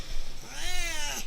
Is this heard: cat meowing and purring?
yes